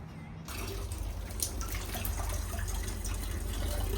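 Water pours from a 20-liter container at a campsite in a steady, continuous splashing stream that starts abruptly and keeps a constant level throughout.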